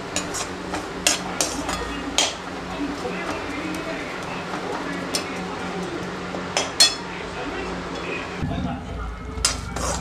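Semolina being dry-roasted and stirred in a pan for mango sheera, with a steady soft scraping and frequent metallic clinks of a spoon against the pan. The sound runs continuously, and no one speaks.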